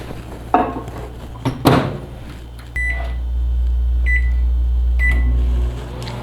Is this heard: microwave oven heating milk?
yes